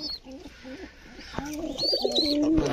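Pigeons coo at a Bangladeshi pigeon farm fed on rice and paddy, several birds producing repeated soft, warbling coos at close range that grow busier and louder toward the end, with a few higher chirps mixed in.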